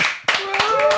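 A few sharp hand claps ring out at a poker show, bright and close. Talk and a sung or held voice follow over them.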